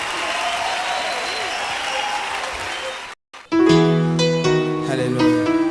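Church congregation applauding and cheering for the Lord during a live worship concert, a broad wash of clapping and crowd noise that cuts out briefly before music swells back in.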